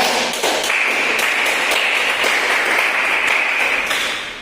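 Classmates in a school classroom break into steady, dense clapping that fills the room, a loud continuous patter of many hands holding at even strength throughout, with no talking over it.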